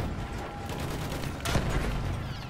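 Gunfire rattles at an enemy tank in a tank battle video game. A steady, noisy roar of fire is broken by one louder, sharper blast midway.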